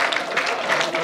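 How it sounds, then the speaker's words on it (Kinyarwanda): A crowd claps briskly in a dense, steady patter of applause, close and fairly loud, for about a second. "amashyi menshi cyane"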